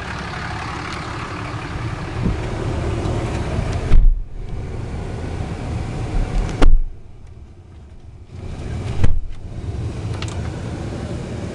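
A 2008 Dodge Ram 3500 crew cab 4x4 with a Cummins diesel drives along, its steady engine and road rumble loud inside the cab, with a few brief bumps and one short quieter dip.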